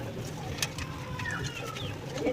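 King pigeons coo softly at close range in a few low, rolling calls over faint background noise.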